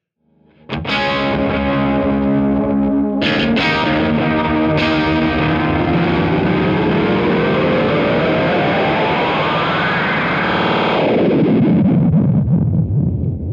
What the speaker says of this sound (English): When you press down the foot switch, it will increase the speed and the number of repeats.